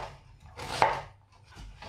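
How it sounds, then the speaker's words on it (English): A knife chops carrots on a cutting board, a couple of quick soft cuts with one sharper knock near the middle, close and alone without talking. "The carrots, I'm just gonna cut the ends off and then cut them into matchsticks."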